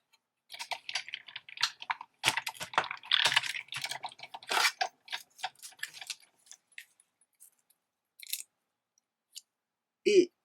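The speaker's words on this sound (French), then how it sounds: "Je découpe mon étiquette." Scissors cutting out a small paper label: a close, dry run of snips and rustles in irregular bursts, thinning out toward the end with a couple of isolated clicks.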